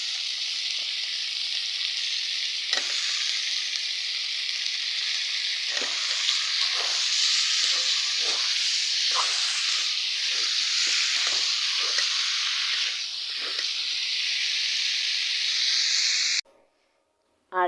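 Eggplant and potatoes frying in spiced oil give a steady, loud sizzle with bursts of stirring scrapes, running nearly unbroken before cutting off abruptly near the end.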